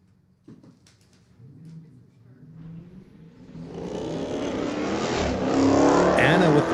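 Street legal drag race cars launch at Mission Raceway, beginning with quiet idling and a clunk, then engines build into a loud, rising roar of acceleration that grows steadily nearer.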